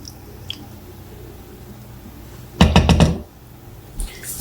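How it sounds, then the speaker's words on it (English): Thick tomato paste squelches wetly into chili in an Instant Pot, a short cluster of moist squishing plops lasting about half a second with a faint clink afterward, close by in a quiet kitchen. "next I'm going to add 2 tablespoons of tomato paste."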